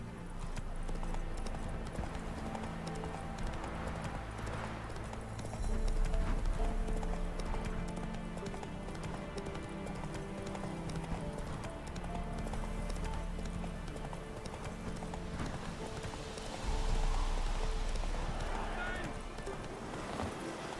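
Roach, a horse in The Witcher 3: Wild Hunt video game, gallops with steady rhythmic hoofbeats under game music and combat sounds, while a voice speaks briefly.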